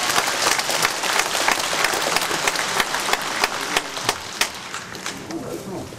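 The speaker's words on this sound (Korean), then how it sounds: "맞으면 박수합니다" Sustained audience applause at a guest lecture by former Gyeonggi governor Kim Moon-soo, dense steady clapping from a large crowd with some sharper individual claps standing out, filling the whole stretch.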